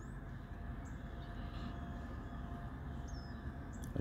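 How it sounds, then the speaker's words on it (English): CSX mixed manifest freight train heading northbound on track one, a faint, steady rumble from some distance, continuous with a brief louder knock at the end. "It's a CSX train."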